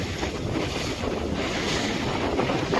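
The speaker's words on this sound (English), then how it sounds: "The wind speed's picked up a little bit" Steady wind roars across the microphone aboard a Hawk 20 sailboat under way at sea, a broad continuous rush with faint water wash beneath and no voices.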